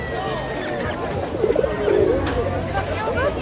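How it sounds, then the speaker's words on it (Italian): A dove at an agriculture trade fair gives a few soft coos midway through, partly masked by people talking and general background chatter. "Questa è la colomba"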